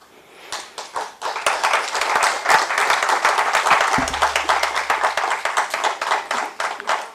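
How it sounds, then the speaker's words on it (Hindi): A crowd at a Hindi literary society gathering applauds guests, loud sharp hand claps that grow into a dense, rhythmic ovation and keep going with a regular pulse to the end. "ताली इसलिए पहले बजवाई थी स्वागत से कि आप ताली का जवाब ताली से देंगे"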